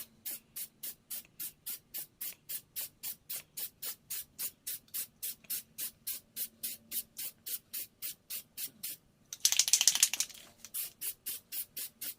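Rust-Oleum light green spray paint is applied to a rifle as a base coat, in a long run of short, evenly spaced hissing bursts followed by one longer, louder spray, close and without talk.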